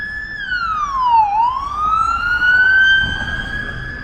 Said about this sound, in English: that was a loud police car